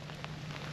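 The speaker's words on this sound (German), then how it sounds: "denn es kommt richtig was runter. Niedrigwasser vom Feinsten, aber vielleicht bringt der Regen uns jetzt Glück." Rain pours down steadily during an autumn catfish fishing trip on a river at very low water, a soft, even wash of drops heard alone.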